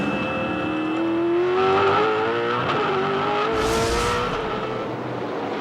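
V8 Supercars racing at Hidden Valley Raceway in 2007, with a loud, steady engine note that sweeps up and down in pitch as the cars accelerate and shift, plus a short rushing burst midway as a car passes close.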